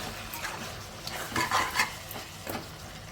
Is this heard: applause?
no